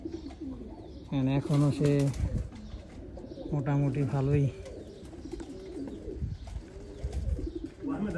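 Teddy pigeons, old breeding birds, coo in two distinct throaty bursts, close and clear, while someone talks between and after the calls.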